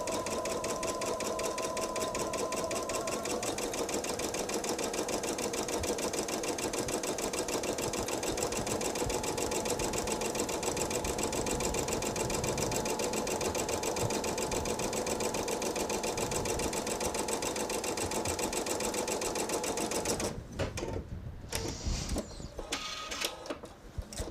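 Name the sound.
sewing machine stitching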